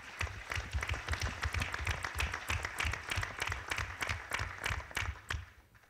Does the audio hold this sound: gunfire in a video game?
no